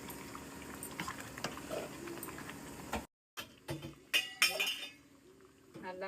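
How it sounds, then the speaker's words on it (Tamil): A pot of sambar bubbling on the stove with soft gurgling, followed by clinks of a utensil against metal and brief kitchen clatter, close by. "நல்லா கொதிக்குது."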